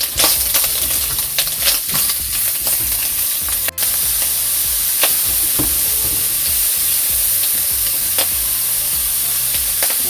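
Cashews and walnuts sizzling loudly in hot oil in a pan for fried rice, a dense continuous crackle broken by scraping stirs and one sharp clink of a utensil.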